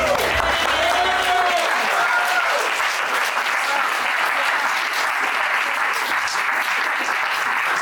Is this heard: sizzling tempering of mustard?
no